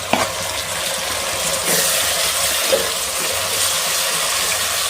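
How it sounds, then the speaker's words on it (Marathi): Chopped onions frying in a pan for chicken pulao, giving a steady loud sizzle with scraping stirring noises and a couple of clinks of the utensil against the pan. "किती छान असा फ्राय झालेला आहे. कांदा लाल व्हायला सुरुवात झाली आहे."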